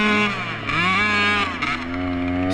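A dirt bike crosses mud ruts at an offroad mudfest, its engine droning and revving up and down in pitch, close and loud, with no talking.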